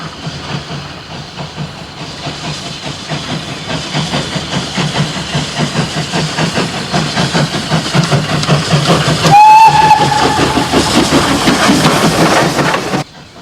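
Spanish narrow gauge steam locomotive working hard up a steep grade toward a junction at Muro de Alcoy, with loud, steady chuffing exhaust, rail clatter and a brief shrill whistle partway through.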